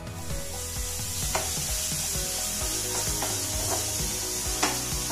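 Two finely chopped onions frying in a pan for egg bhurji, a steady close sizzle with repeated scraping stirs and a few sharper clicks of the spoon against the pan, no voices.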